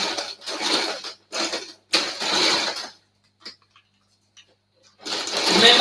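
A Janome 500e embroidery machine stitches a hooded towel in several rapid, loud bursts with short pauses between them, a few faint clicks in the quiet gap, then a final long run.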